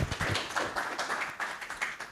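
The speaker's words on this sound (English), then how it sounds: "You can also really clap for him well" Applause from an audience for a CEO at a science and policy biotechnology event at KALRO Kiboko, a steady wash of many hands clapping at moderate distance, fairly faint, continuing for about two seconds with no talk over it.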